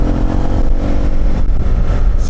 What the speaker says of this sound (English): There's a lot of really loud exhaust on motors here.